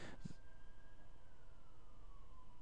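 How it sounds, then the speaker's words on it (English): An ambulance siren passes outside, a faint wailing tone that slowly falls in pitch as it moves away over a steady background hum, with no talk. "Oh, fucking ambulance."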